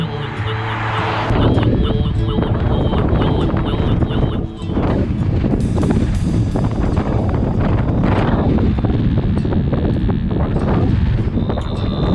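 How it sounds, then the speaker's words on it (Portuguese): Strong wind blows at a campsite with a bicycle weighed down by stones, roaring as continuous loud buffeting against the microphone throughout, with no clear talk. "o vento tá fogo, vai ser uma noite tensa."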